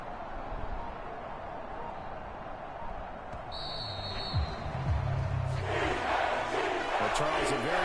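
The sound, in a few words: home crowd applauding at a sports event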